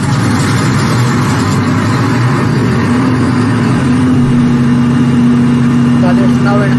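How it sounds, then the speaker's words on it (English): Twin power generators running together, giving a loud, steady engine drone with a low mechanical hum that holds at an even level throughout. "And now I am starting machine."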